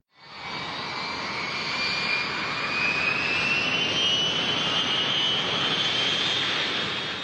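A TWA Boeing 707 jetliner from around 1959 roars in a steady, loud jet whine that rises slowly in pitch and holds without a break, sounding like a passing or climbing airliner.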